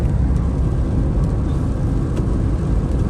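A 2004 Hyundai Accent with a newly replaced clutch cruising in fifth gear, heard from inside as a loud, steady low engine drone and road rumble with no talk.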